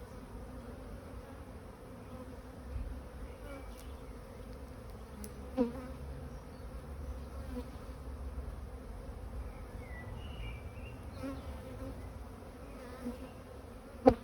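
Honeybees hum in a steady, dense drone over an opened hive during a spring inspection, a busy colony with brood about to emerge, close and continuous with a few louder individual passes and no talk.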